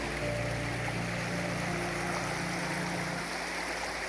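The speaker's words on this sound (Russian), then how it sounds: "Тем более вода что-то такая бурная достаточно" Turbulent river water rushing beside the Trans-Siberian railway, a steady broadband roar that stays constant and fairly distant, with no voices over it.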